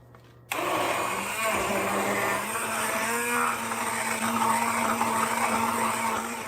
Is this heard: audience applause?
no